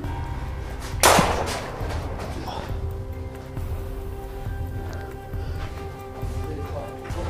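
A single sharp video-game gunshot cracks out early on, followed by a steady low electronic background with no further shots.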